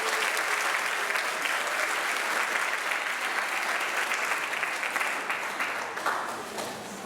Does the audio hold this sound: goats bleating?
no